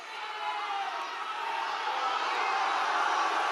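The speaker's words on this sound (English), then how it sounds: "Don't boo." A large audience boos and murmurs together in a steady, sustained wash of crowd noise that slowly swells louder, with no single voice standing out.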